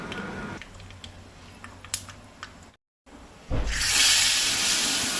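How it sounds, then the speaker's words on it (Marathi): Quiet clicks and taps give way to a sudden loud sizzling hiss as mustard seeds hit hot oil for tempering, swelling up and crackling strongly to the end. "आतां ताका फोडणी करपाक जाय सांसवांची।"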